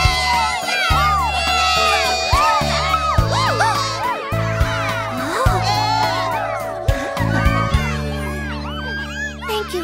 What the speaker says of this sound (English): the time has come to give a big cheer to the last remaining dancer at the dance-a-thon, Ellie!